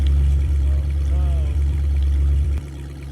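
Boat engine idling low while trolling in Russian Fishing 4, a steady droning hum with water churning around the hull and a brief wavering tone in the middle; it drops in level near the end.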